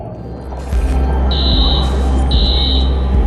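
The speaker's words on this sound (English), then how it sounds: "Alarm's been tripped." An alarm in the Watch Dogs video game sounds loud and close, a steady electronic buzz broken by two sustained high beeping tones, with no talking.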